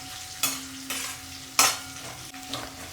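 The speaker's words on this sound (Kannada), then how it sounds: "ಹಸಿಮೆಣಸಿನ್ಕಾಯಿ ಏನಿದ್ದಾವೆ ನೋಡಿ ಚೆನ್ನಾಗಿ ಎಣ್ಣೆಯಲ್ಲಿ ಮಾಗಬೇಕು." Green chillies fry in hot oil in a pan while being stirred, a soft steady sizzle broken by several sharp scraping stirs at irregular intervals, close by with no talking.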